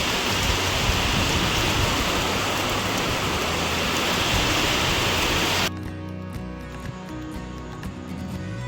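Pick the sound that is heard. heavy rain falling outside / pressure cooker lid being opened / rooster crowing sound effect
heavy rain falling outside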